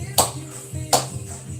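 Two sharp, close hand claps land in a slow rhythm about three-quarters of a second apart, keeping time along with a song at a workout session over a low musical hum.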